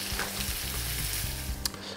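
Breaded veal escalopes fry in hot oil with a loud, even, close-up sizzle and a single brief sharper crackle near the end.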